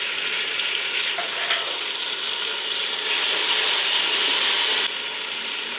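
Tomatoes and spices fry for chicken pulao in a loud, steady hiss of bubbling oil, with faint scraping from stirring, close and continuous throughout.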